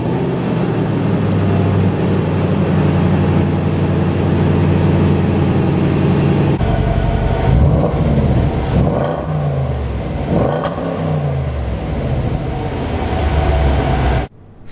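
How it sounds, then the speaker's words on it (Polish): A 2022 Range Rover Sport's 5.0 V8 revs while parked, a loud, close, continuous engine roar with a steady drone that shifts pitch partway through as the throttle rises and falls, cut off abruptly at the end. "im więcej się słyszy takiej ogromnej V8, tym lepiej"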